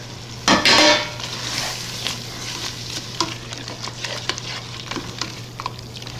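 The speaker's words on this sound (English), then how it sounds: "we're going to add that eggplant, toast, and pet milk mixture. Get that all stirred in there" An eggplant, toast and evaporated milk mixture for shrimp-stuffed eggplant is stirred in a hot pot, opening with a loud clatter, then soft steady sizzling and repeated light scraping of the spoon.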